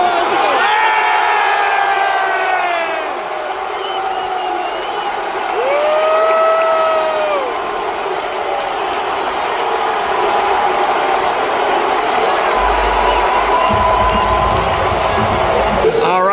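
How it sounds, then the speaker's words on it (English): Restless football stadium crowd at a Brazil vs Costa Rica Copa America 2024 match during a VAR check, a loud sustained roar with scattered whistles, shouts and rising jeers. "Crowd's getting restless."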